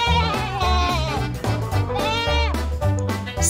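Goats on a farm bleat in a rapid series of wavering, nasal cries, loud and close, several calls overlapping back to back with no speech.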